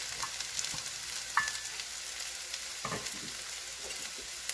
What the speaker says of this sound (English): so I'm going to add my mushrooms